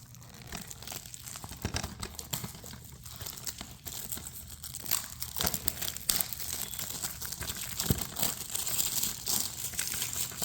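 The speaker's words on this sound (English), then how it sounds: "I grabbed my trusty scissors and I'm gonna get this plastic wrapping" Scissors cut and strip the crinkly plastic wrapping from a Scooby-Doo DVD case, producing close, irregular crackling and crumpling with sharp snips and tearing bursts and no speech.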